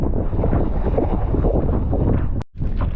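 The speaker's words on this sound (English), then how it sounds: "it's really windy right now." Strong gusts buffet the microphone outdoors on the water during snowstorm wingfoiling, a continuous loud low roar that cuts out briefly near the end before resuming.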